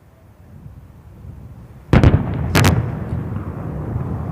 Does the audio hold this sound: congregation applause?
no